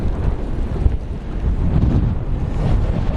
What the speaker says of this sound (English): it is just windy. I mean, that has been the game all day long. The wind's gotten worse.